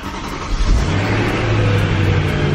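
A BMW E92 M3 engine warming up after a cold start, a loud, steady, close-up rumble with a rev swell early on before settling into a high, even drone.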